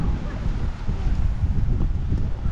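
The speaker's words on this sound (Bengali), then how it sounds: "সমুদ্রের ঠান্ডা ঠান্ডা হাওয়া বইছে, বাতাস বইছে।" Cold sea wind blows steadily at a beach by the open sea, a loud continuous rumble of gusts buffeting the microphone without a break.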